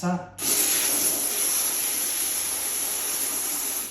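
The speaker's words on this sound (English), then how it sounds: "the hotter the steam, the better it is for cleaning" A handheld steam cleaner hisses steadily and close up, a continuous bright rush of steam that starts abruptly and runs unbroken, with no talk over it.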